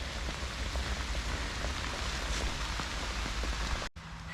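Steady rain falls on an outdoor carp-fishing spot, a dense even hiss that holds constant throughout, then cuts briefly before resuming.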